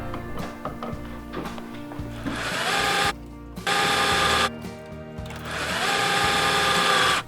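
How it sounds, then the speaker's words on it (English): Switch plate screws are backed out with a motorized screwdriver, giving close whirring bursts of a few seconds each, broken by short pauses, over a low mechanical hum. "So you gotta remove these two screws."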